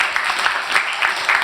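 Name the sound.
audience applause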